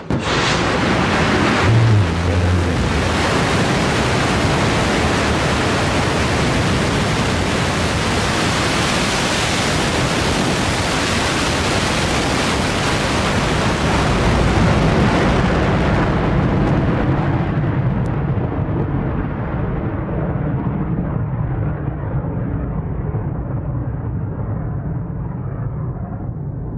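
The Blue Origin New Shepard rocket roars at launch with a broad, dense, continuous rumble that stays loud and steady for nearly half a minute, its upper hiss gradually thinning as it climbs away.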